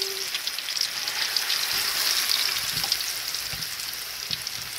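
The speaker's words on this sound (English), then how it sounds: "Alright guys, the oil is hot enough. Now I'm gonna put my plantains." Sweet plantains slid into hot oil, frying with a dense, even crackle and sizzle that stays loud and close throughout, broken only by a few soft knocks.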